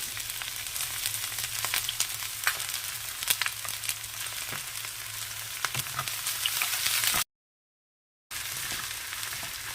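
Garlic, green chilies and ginger fry in oil with a bright, continuous hiss and scattered pops close by, cutting to silence for about a second before the sizzle resumes.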